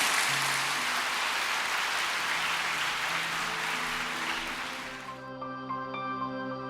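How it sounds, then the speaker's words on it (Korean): A church congregation applauds in a dense, sustained wash of clapping that fades after about five seconds as sustained keyboard or organ tones take over. "우리 하나님께 감사의 박수 올려드립니다"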